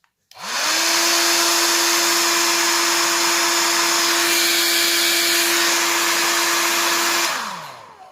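A repaired MW NTS-1200 unit runs at its second speed. A loud, steady motor whine starts abruptly, holds evenly for about seven seconds, then winds down and stops.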